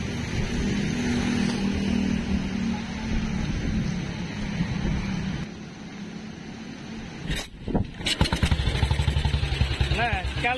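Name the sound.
vintage motorcycle engine running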